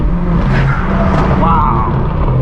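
A straight-piped BMW M4 G82 with catless MAD downpipes and a titanium exhaust snarls loudly close up, a raspy, aggressive drone that swells briefly.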